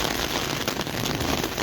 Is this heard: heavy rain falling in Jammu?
yes